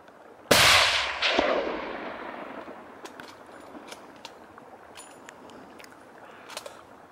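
A single loud gunshot bangs out close by, followed a moment later by a second, weaker shot, both trailing off into an outdoor wash with faint clicks and rustles afterward.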